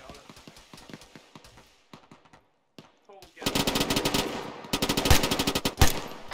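Machine gun fired from a tower in a military defense video game, scattered single shots first, then long loud rapid bursts of automatic fire close by, with a brief break between them.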